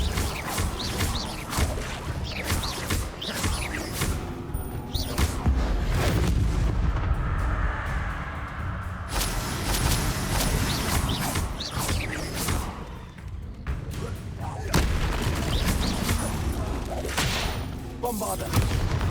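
Bombarda spell explosions in the video game Hogwarts Legacy burst out as repeated heavy booms and rumbling blasts over dense battle effects, with occasional voices.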